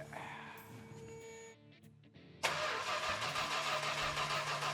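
An old 440 engine that sat for 40 years cranks with a starter whir, then catches and roars into a steady, rough idle, loud and close.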